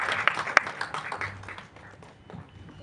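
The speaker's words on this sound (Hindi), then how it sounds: "अटल बिहारी वाजपेयी जी के लिए एक बार जोरदार तालियां हो जाएं." Applause at a press event for a film trailer launch, in tribute to Atal Bihari Vajpayee: scattered claps with a few sharp close hits at first, gradually thinning and fading toward the end.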